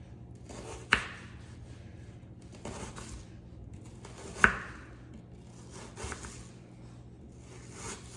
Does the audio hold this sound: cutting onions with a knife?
yes